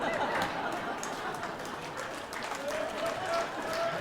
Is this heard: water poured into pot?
no